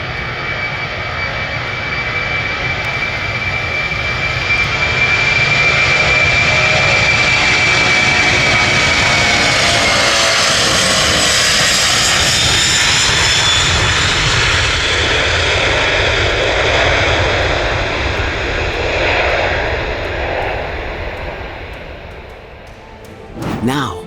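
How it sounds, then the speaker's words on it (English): A US subway train roars loudly into a station, a sustained thunderous rumble and rising whine like a jet taking off that fills the whole stretch before easing off near the end. "the thunderous roar emitted by the US subway when it arrives at the station is like an airplane taking off"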